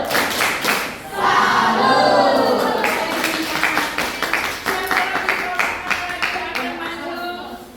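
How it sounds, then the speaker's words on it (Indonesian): A group doing the salute clap in a guidance and counseling session, rhythmic bursts of clapping in a steady beat alongside chanting voices, close and loud. "Tepuk salut. Salut, salut. Salut, salut."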